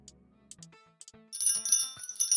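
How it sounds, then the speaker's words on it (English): Small tiny bell sound made in Unity: light, high tinkling strikes in quick succession at first, then a brighter, louder sustained ringing shimmer that builds toward the end, heard alone and close. "that actually kind of does sound like a real but tiny bell"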